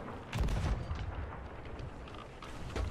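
Ship cannons fire in the pirate video game Sea of Thieves: a deep booming shot near the start and another at the end, with rumbling echoes between them.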